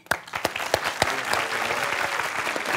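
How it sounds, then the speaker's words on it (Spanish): A studio audience at a Mexican late-night television talk show breaks into applause, starting with a few scattered sharp claps that quickly swell into dense, steady clapping. "Un aplauso para Giovanni y Alexander."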